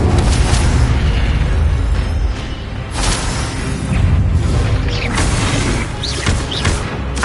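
Incendio fire spell blasts in Hogwarts Legacy, a loud continuous roar of booming bursts and crackling fire with repeated explosive impacts and no talking.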